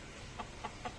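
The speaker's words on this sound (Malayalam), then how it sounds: "പിന്നെ നമ്മളെ കോഴികൾ" Backyard chickens on a small farm plot in Abu Dhabi give three soft, evenly spaced clucks, faint and nearby over a low background hum.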